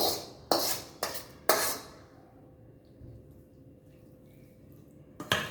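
A spoon stirs cooled cooked rice with tamarind paste and Kashmiri chilli powder in a metal pot, giving four sharp clinks and scrapes close together early on, then near silence and one last clink at the end.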